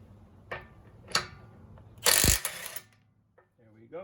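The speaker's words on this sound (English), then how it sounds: "We're going to go with this Milwaukee Fuel stubby. It's a 1/2 inch impact, and we'll see if it can get these lug nuts off." A Milwaukee Fuel stubby 1/2 inch cordless impact wrench working lug nuts loose during a tire rotation: short mechanical bursts and one loud hammering rattle in the middle, close up, with a brief voice at the end.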